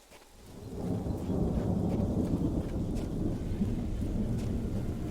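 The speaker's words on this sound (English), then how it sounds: "I can hear a Covenant dropship in the distance." A distant Covenant dropship in Halo: Reach gives a steady low roaring rumble that swells over the first second, then holds as a broad, continuous drone far off in the background.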